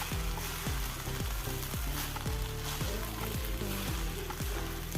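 Vegetable fried rice stirred in a pan, loud continuous sizzling with repeated rhythmic knocks and scrapes of a ladle against the metal, close up with no voices.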